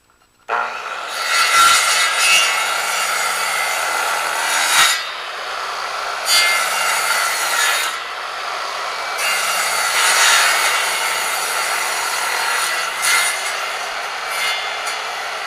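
A mortise is cut into timber for Cape Cod roof framing with a rasping, sawing tool, making long continuous scraping strokes in several passes, loud and close with brief pauses between them.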